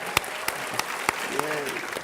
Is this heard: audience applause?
yes